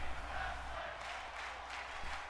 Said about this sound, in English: The crowd chanting tag team wrestling.